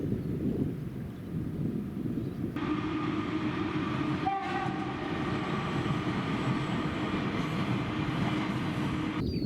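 A train runs along a railway on the bank of the Sylva River. Its steady, loud rumble fills the whole stretch, with a horn-like tone rising through the middle, and no voices are heard.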